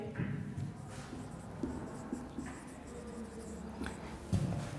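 Chalk or marker writing on a classroom board during a lesson, soft scratchy strokes in an uneven rhythm, close and fairly quiet, with no clear speech over it.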